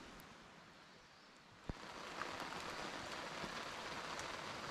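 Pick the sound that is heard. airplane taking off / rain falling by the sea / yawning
rain falling by the sea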